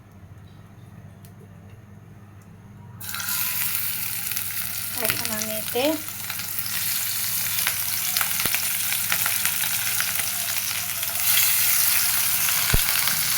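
Fish dropped into hot oil in a wok bursts into a loud, steady sizzle and spatter that continues to the end, after a quieter opening where a person speaks briefly.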